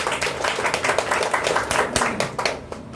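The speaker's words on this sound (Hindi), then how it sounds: "तो एक बार उनके नाम पे तालियां बजा दें।" A crowd claps in a steady patter of many hands for about three seconds, fairly close and lively.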